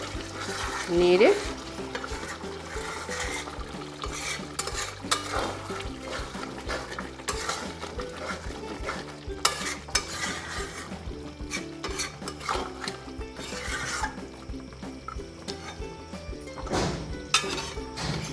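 Mutton curry with whole green chillies being stirred in a pan, a steady scraping and soft sizzle running throughout, with occasional louder clatters of the spoon against the metal and background music-like tonal hum.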